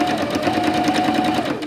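A sewing machine runs steadily while hemming the edges of a fabric diaper cover, giving a close, continuous rapid stitching whir with a faint tonal hum throughout.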